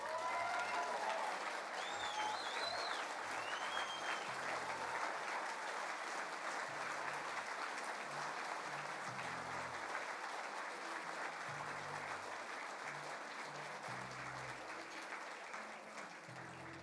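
A New Zealand First party convention audience gives sustained applause to its speakers, a broad, steady roar of clapping held throughout, fading slightly toward the end, with a brief voice near the start.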